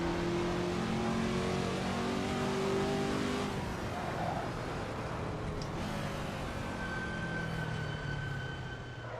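Virtual car engine in the Assetto Corsa racing game, an older car droning and revving steadily at high pitch, loud and continuous with slight shifts in tone.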